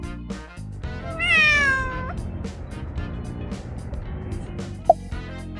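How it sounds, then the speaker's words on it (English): A cat gives a long, drawn-out meow that rises and falls, clear over a steady low background hum, followed by a brief faint chirp near the end. "Yes, that is cat."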